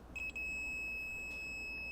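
A multimeter in continuity mode beeps on a short circuit while probing a Samsung TV board: a few quick high chirps, then one steady, clear tone held over a low background hiss.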